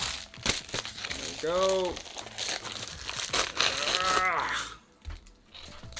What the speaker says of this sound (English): That was a satisfying rip.